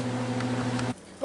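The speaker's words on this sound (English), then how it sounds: "it's the microwave I've got going over here." A microwave oven running nearby hums steadily and evenly for about a second before cutting off, followed by a brief faint click or clatter.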